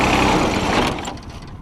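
A John Deere 455 lawn tractor's engine runs close by in a steady, tight-sounding drone that eases slightly in loudness partway through.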